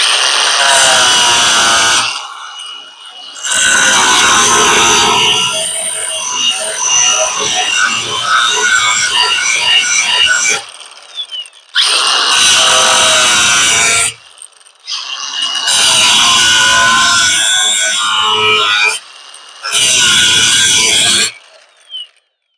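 Power tool cutting between spot welds on a truck cab corner during a repair, loud harsh bursts of cutting noise in several separate passes with short pauses between them, close up and with no talk.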